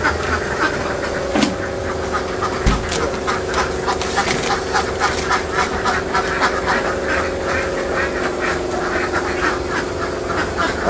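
A flock of egg-laying ducks on a duck farm quack in a pen, a dense, continuous chorus of overlapping calls with a steady mechanical hum underneath.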